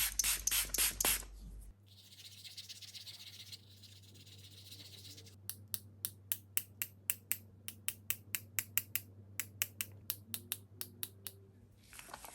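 Watercolor paint flicked onto backgrounds as splatters: a brief spray hiss, then a long series of sharp, close snapping flicks in an irregular but quick rhythm, over a low steady hum.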